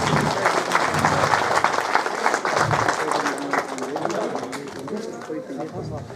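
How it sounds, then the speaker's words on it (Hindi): Loud applause from a crowd at a village panchayat gathering honouring a legislator, dense steady clapping filling the whole stretch with no pause. "जोरदार तालियों से अभिनंदन करें।"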